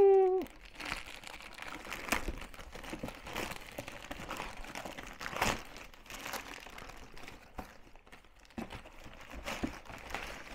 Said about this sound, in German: und jetzt heißt es auspacken.